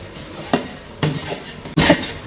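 Onion, carrot and beans stirred in a large pot for a 10 kg batch of chicken fried rice, three distinct close scraping strokes over a low sizzle.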